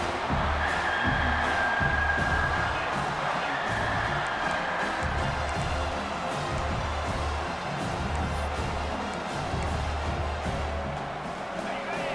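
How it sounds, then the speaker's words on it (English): A stadium crowd in EA Sports College Football 26 roars in a steady, dense wash of cheering and noise that holds throughout. "This crowd trying to make life miserable for this offense."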